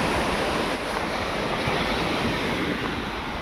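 Constant roar of surf and waves breaking nearby, dense and loud, mixed with wind buffeting the microphone.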